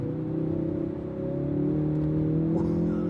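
Ford Focus RS pulling hard in second gear at full throttle, a steady loud engine drone with harmonics climbing slowly in pitch over about three seconds, close and continuous with no talk.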